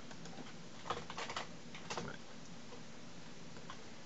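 Quick typing on a computer keyboard, two short clusters of soft clicking keystrokes over a faint steady hum, then quieter background with no voices.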